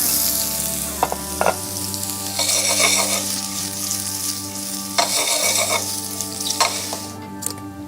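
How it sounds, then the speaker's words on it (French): Chanterelle mushrooms sautéing in a pan with nearly cooked potatoes: a continuous close sizzle with occasional utensil scrapes and stirring bursts, steady and fairly loud, no voices. "On va donc pouvoir ajouter les girolles dedans."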